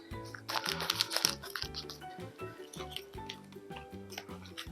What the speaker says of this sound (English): I think it's almost time for new scissors.